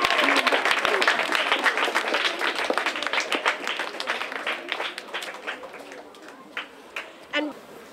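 Audience applause for an award recipient at a social development event, dense clapping at first that thins out into scattered claps before fading, with a few voices in the room.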